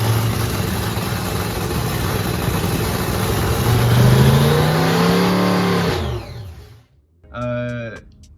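A crewed race car's engine revs loudly at close range during warm-ups beside the exhaust, a sustained roar with rising pitch sweeps that cuts off abruptly, then a short, sharp blip of revs follows.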